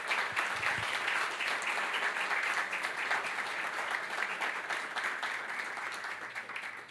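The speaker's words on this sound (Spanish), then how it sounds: "Demos un aplauso a nuestras maestras." A church congregation claps for its teachers, a dense, even wash of applause filling the room for several seconds and slowly tapering, with no talking over it.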